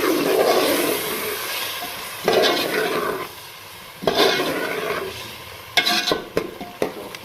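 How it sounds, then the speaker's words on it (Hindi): Yogurt is stirred into spices frying in a pan for a karela chicken dish, giving a wet sizzle with repeated scraping sweeps that swell and fade several times, close and fairly loud, with no talking. "दही को हमने अच्छे से मिक्स कर लेना है मसाले में।"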